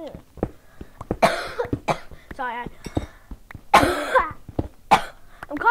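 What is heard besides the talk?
cough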